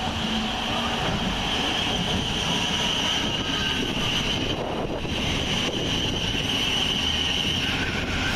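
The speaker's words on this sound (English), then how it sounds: "Quickly on its heels is 700-130, working the 1207 Govia Thameslink service from Brighton to Bedford" A Govia Thameslink Class 700 electric train runs through Hassocks railway station, a steady loud rumble and rushing roar that continues without a break, with wind buffeting the microphone and no speech.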